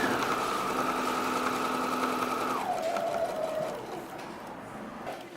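A sewing machine runs a steady straight seam on fabric for an infinity scarf, a droning hum that holds even, then drops in pitch and fades as the stitching slows near the end.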